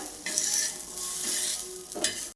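Tomatoes roasting in a little oil in a pan for a drumstick masala, a bright sizzle rising and falling in bursts with a final stir, close and moderately quiet, no voices.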